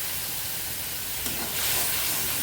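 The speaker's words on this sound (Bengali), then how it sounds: "এই মশলাটা আমি এখন তেলের মধ্যে দিয়ে কষিয়ে নেব।" Spice paste of cumin, chilli, cinnamon and cardamom frying in leftover fish-frying oil in an iron wok, a steady broadband hiss that swells louder and brighter partway through, with no voices.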